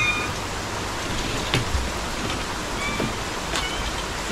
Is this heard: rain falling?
yes